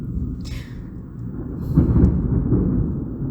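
Low rumbling thunder rolls through, swelling louder midway and lingering as a sustained deep roar, heard alone without speech.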